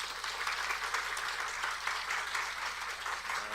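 An audience applauds steadily in a church, a dense wash of clapping hands that stays even throughout, welcoming a pastor.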